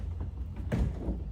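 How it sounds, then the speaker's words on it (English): Door of a shipping crate for an LED poster display swinging open, a brief mechanical thud and rattle at close range with no talking. "From there, this door will pop open,"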